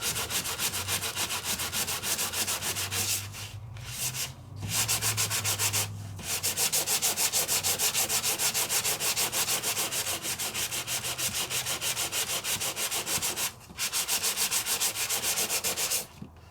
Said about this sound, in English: Here you're sanding away the background, leaving the flowers in the foily